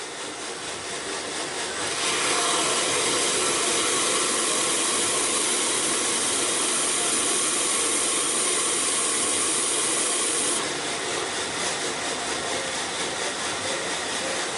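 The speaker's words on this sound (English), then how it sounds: "I'm going to come in and basically put a hollow grind right there." A knife blade is pressed against a spinning grinding wheel to put a hollow grind on it, giving a steady, loud abrasive whine with a harsher, brighter stretch in the middle, and no talking.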